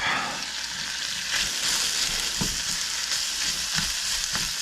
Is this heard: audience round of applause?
no